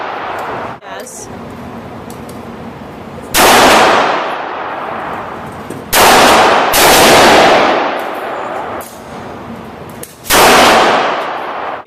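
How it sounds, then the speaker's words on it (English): Loud rifle shots fired at a zombie in a zombie survival video game, three or four sharp blasts spaced a few seconds apart, each trailing off in a long noisy decay. "So we just took a rifle to Mr. Zombie."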